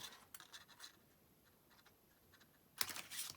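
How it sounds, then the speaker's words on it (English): Craft snips cut through cardstock in a quiet room, giving a series of faint, crisp snipping scratches, then a louder burst of cutting at the end. "I'm just going to take my snips and snip it"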